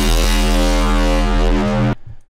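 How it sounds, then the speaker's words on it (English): A heavy dubstep bass built in the Vital synth, slammed through distortion and filter movements, drones loud and thick with sweeping low growl, then cuts off abruptly into brief stuttering tail. "all these little filter movements being slammed into all these effects and distortion"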